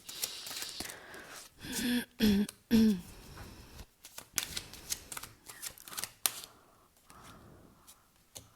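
Oracle cards shuffled and drawn by hand during a spiritual reading, a run of soft papery riffles and flicks with a few sharper snaps, close and fairly quiet with no talking.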